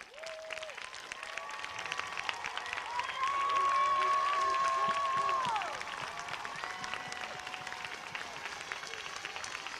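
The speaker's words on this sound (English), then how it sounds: "You can clap now." Sustained applause and cheering from a large crowd at the Asbury Park High School graduation ceremony, swelling to a loud peak midway with a prolonged whistle-like cheer before easing, with some voices mixed in.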